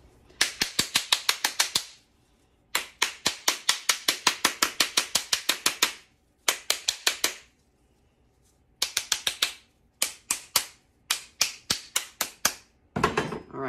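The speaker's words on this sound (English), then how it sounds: "So that's why we bang on the outside to try to loosen up the grit." Repeated bursts of sharp knocking on the outside of a pumpkin-shaped bath bomb mold to loosen stuck mixture, fast clattering raps in five clustered runs separated by short pauses, close and loud with no talking.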